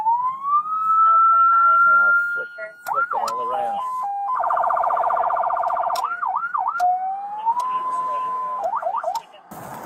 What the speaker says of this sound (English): The only thing he is good at is putting multiple sirens on his vehicle.